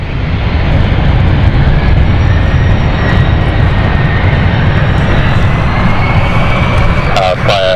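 A plane touching down on runway 09 at London City Airport in a bouncy landing, a loud, steady roar of engine and rolling noise throughout, with a voice talking over it and a faint rising whine near the end.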